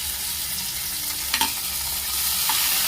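Vegetables being stirred in a frying pan for a Gujarati cashew-gathiya curry, with tomatoes and onions going in; a steady soft sizzle runs throughout, broken by a few brief scrapes of the spoon against the pan.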